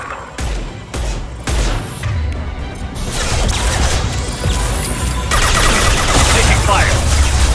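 Combat gunfire in the Mass Effect game: dense, continuous bursts of shots and crashing impacts that build louder over the second half, with brief voice callouts mixed in.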